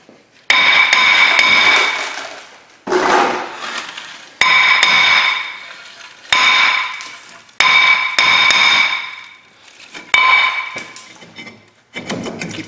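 Sharp, ringing metallic hammer blows strike a Ford Ranger brake rotor in repeated bursts of rapid taps, loud and close, with brief pauses between groups and no talking.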